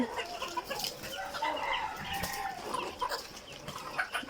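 Farm hens cluck and murmur continuously while drinking water, a low chorus of overlapping calls with occasional louder squawks and no talk.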